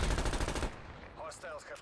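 Fast gunfire in a video game rattles loudly for under a second, then cuts off, leaving fainter scattered sounds and a voice.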